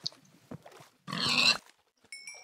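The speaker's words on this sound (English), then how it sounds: "I think we're going to punch a couple pigs" Minecraft pigs grunting and oinking as they get punched in a blocky game world, with short squeals and snorts followed by one longer, louder squeal and a few thin high tones.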